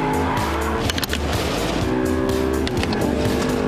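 An Audi R8 with a 4.2-litre V8 accelerates hard on a race track, its engine roaring loud and close without a break and rising through the revs, with a brief tyre squeal.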